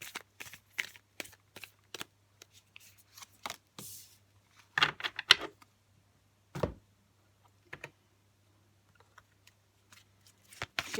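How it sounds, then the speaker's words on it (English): Oracle cards being shuffled and pulled for a reading, in quiet close riffles and soft slaps and flicks, scattered irregularly with pauses of near silence between. "now we're just going to pull 3 oracle cards to finish off the reading"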